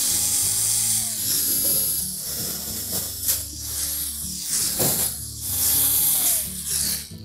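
A power driver whirs steadily as it backs out quarter-inch hex head screws from a GE range during a convection motor replacement, with a near, continuous mechanical drone that rises and dips in short bursts.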